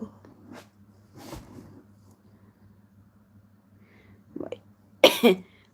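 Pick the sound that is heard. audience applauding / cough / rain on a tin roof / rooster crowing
cough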